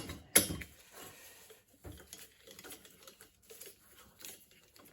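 A left-handed threaded nut is undone on an early Suffolk engine: one sharp metallic click, then a run of quiet, close ratcheting and tool clicks in a workshop, with no talking.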